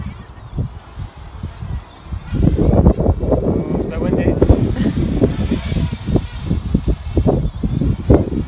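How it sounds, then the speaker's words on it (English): Gusty wind buffets the microphone in loud, uneven rumbling bursts, rising and falling across the whole stretch. "It's a bit windy."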